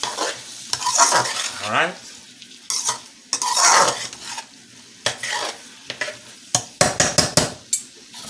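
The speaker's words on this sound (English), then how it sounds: "stir it a little bit" Okra and salt fish stirred in a pot with a utensil, scraping and clattering in repeated close strokes over a light sizzle, with one brief spoken word.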